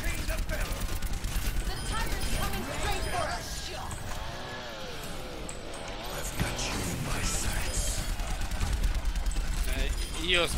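Rapid bursts of video game gunfire crackle throughout, layered under continuous excited talking and busy game sounds.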